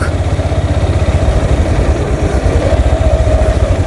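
A motorcycle engine thrums with a steady, pulsing low drone throughout while the bike rides through a village road, close and loud, with no talking.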